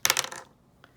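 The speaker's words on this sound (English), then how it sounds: "And now we re-roll the percentile dice." Percentile dice rattle and tumble across a hard surface during a tabletop baseball replay game: a quick burst of clattering clicks that dies away within half a second, followed by one faint final tick.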